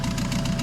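A car engine, jump-started in winter, idles with a rough, steady low rumble and rhythmic knocking pulses, loud and close for a short moment.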